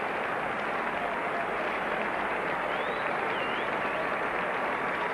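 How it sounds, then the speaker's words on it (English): A cricket crowd at an Australia versus West Indies Test match in 1960-61 applauds in a continuous, even round of clapping that holds throughout. "there's a great round of applause for Rowan Canhigh as he makes his way to the wickets"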